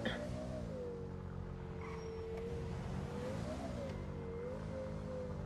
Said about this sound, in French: J'aime bien le bruit de la voiture.